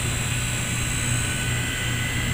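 Blade mCPx small RC helicopter on its standard battery, flying with a steady high-pitched rotor and motor whine that stays loud and constant, with no talk over it.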